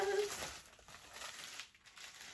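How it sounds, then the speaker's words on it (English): Plastic packaging bag for Disney Halloween candy corn Mickey ears being ripped open, a short close crinkling tear that starts sharp and fades into soft rustling. "it seems to be easier to rip the bag"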